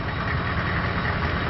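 A Chevrolet Suburban truck engine idles up close, a steady, dense rumble with a faint knocking texture, loud and unbroken with no talking.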